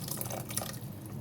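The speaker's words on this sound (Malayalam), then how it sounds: "ഇനി നമ്മളിതിലേക്ക് ഒഴിക്കുന്ന പുളീൻ്റെ വെള്ളമാണ് കേട്ടോ" Tamarind water is poured into a pot of fish curry as it cooks, giving a short soft liquid splash and trickle at close range, fairly quiet and with no speech.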